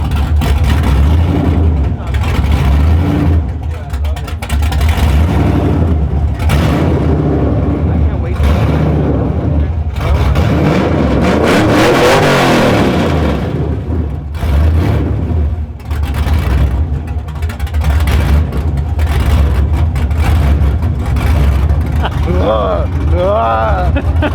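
A rebuilt 1999 Harley-Davidson Dyna motorcycle engine warms up with a loud, close, uneven rumble and some revs, while people talk over it.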